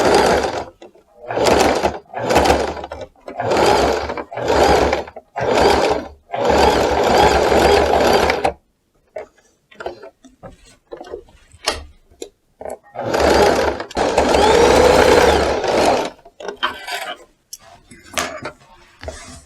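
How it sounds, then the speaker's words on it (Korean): A sewing machine stitches around three sides of a basic men's shirt collar, running in loud, rapid bursts separated by brief pauses. "자, 이제 3면을 스티치 쳐줍니다."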